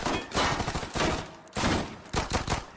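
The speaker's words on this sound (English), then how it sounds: "he buys one of the most famous mafia weapons at that time, the Thompson submachine gun" A Thompson submachine gun firing in several rapid bursts, each a loud chattering volley separated by short pauses, sounding close and forceful.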